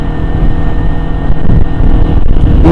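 A carbureted Kawasaki Ninja 250 motorcycle engine drones loudly and steadily at close range, a continuous low rumble with no talk over it.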